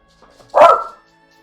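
A puppy in a Nancy Drew adventure game gives a single sharp, close bark against near silence.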